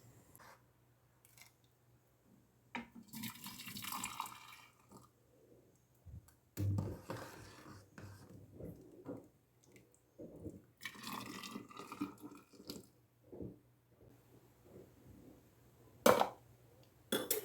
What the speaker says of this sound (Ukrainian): Не вимикаючи газ, розділяти по стерилізованих банках.